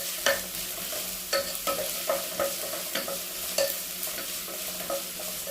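Mushrooms fry in hot coconut oil in a pot, a steady sizzle broken by repeated scraping strokes of a stirring spoon at an uneven rhythm, close and clear with no voices.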